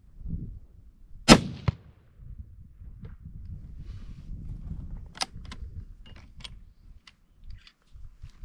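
A single sharp 270 Winchester Short Magnum rifle shot with 130 grain Nosler Ballistic Tip bullets at an outdoor 100-yard range, loud and abrupt, followed by a few faint metallic clicks and handling sounds.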